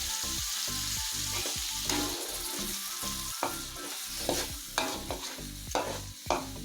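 Ground spice paste with coarse red chilli sautéing in a pan for ongseng balado, a dense continuous sizzle with repeated spatula scrapes and stirring knocks, close and steady with no voices.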